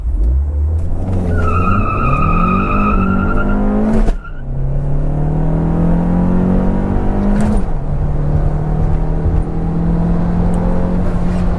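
A 2015/16 Fiat Punto T-Jet 1.4 turbo with a sport air filter accelerates hard from 0 to 100 km/h, its loud engine climbing in pitch through two gear shifts, each marked by a brief dip before the revs build again.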